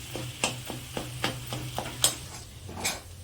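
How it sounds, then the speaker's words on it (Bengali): Scrambled egg bhujia is stirred into rice in a pan, a series of rhythmic scraping strokes of a spoon against the pan over a soft, continuous sizzle, close and fairly quiet. "এরপর এটাকে রাইসের সাথে আমি মেশাবো।"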